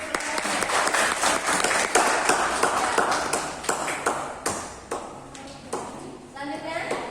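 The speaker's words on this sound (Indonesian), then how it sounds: "Berikan tepuk tangan." An audience in a classroom presentation claps, a burst of scattered handclaps that builds then thins into separate claps over several seconds, with talking mixed in.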